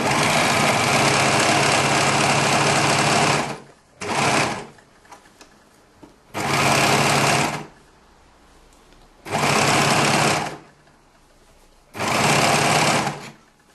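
A serger overlocks the sleeve seam through two layers of fabric, running loud and close in four bursts of a few seconds each with short quiet pauses between them.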